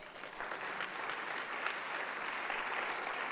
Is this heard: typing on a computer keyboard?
no